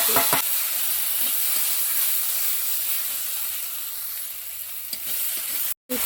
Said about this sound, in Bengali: ভালো করে একটু কষিয়ে নেবো এখানে দিয়ে দেবো জিরে আর আদা